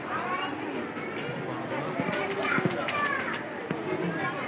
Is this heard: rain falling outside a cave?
no